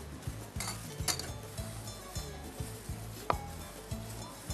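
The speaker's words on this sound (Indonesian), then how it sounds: "Kemudian kita aduk. Ya, kita akan aduk pakai tangan." Grated coconut mixed with other ingredients is stirred and squeezed by hand in a bowl for a Jogja royal kitchen snack, giving soft, steady moist squelching and rustling with faint clinks of utensils.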